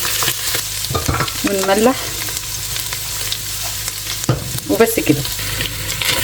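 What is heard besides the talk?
sautéing and stirring vegetables in pan for moussaka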